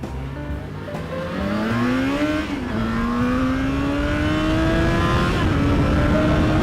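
A 2012 Yamaha FZ6R motorcycle engine rises in pitch as the throttle opens on a ride, with a quick gear change and then more climbing revs under steady wind rush.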